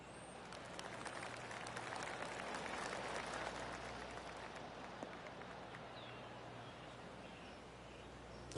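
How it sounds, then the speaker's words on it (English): Golf crowd applause in the video game PGA TOUR 2K25 after a good putt at a Korn Ferry tournament hole: steady, moderate clapping from a gallery at some distance, continuous throughout with faint ambient outdoor noise. "Oh, golf clap. That's a beauty."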